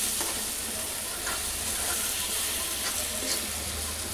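Salted dal sizzles steadily in a hot pan while being stirred, a continuous broadband crackle with faint scraping touches throughout, no voices.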